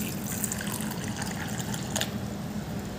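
Water is poured into a pot of sprouted chickpeas set to boil, making a steady, close, continuous pouring and splashing rush for the whole stretch with no voices.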